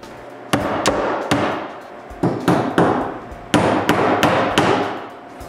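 Hammer blows drive nails through a wooden fence on a woodworking mitre station, sharp close strikes in short bursts of two to four with pauses between, loud and ringing, no voices.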